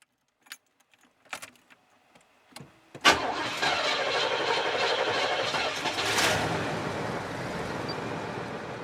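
Old project car engine that sat for a long time, keys jangling and a few clicks, then it starts and runs at a steady, loud idle with a brief rev.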